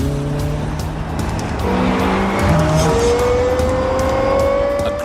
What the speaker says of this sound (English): Aggressive, loud, agile, the highest revving V10 engine in a production car.